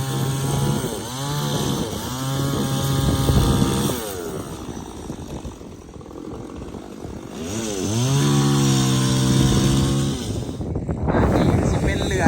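A chainsaw cutting through wood in strong wind outdoors, loud revving in repeated bursts that rise and fall as it bites and eases off, with people talking alongside.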